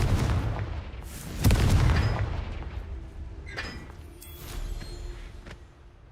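Confringo fire spell detonating in Hogwarts Legacy: a heavy low boom around the middle of the first two seconds, then quieter rumbles and small crackling pops fading out.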